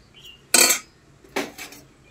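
Dal is served onto a plate of rice at home: two quick metallic clinks of a serving utensil against the dish, with near silence between them.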